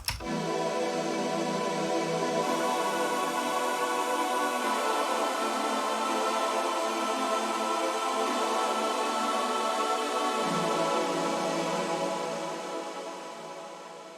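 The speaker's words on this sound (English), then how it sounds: "I've got this M1 choir sound" Massive synthesized M1 choir patch sustains chords for a long stretch, with effects on it, a dense continuous wash that holds steady and fades slightly near the end, no voices talking.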